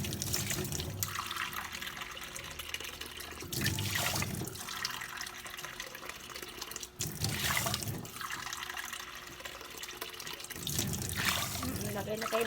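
Tap water poured into the pot of a rice cooker, running and splashing steadily for several seconds, with surges of louder flow and a voice talking now and then.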